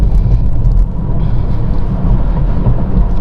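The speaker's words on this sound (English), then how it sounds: "Looking through the corner now, firming the acceleration up." Car accelerating out of a corner after carrying speed through it on the throttle, a steady low engine drone that holds close and fairly loud, with no talk over it.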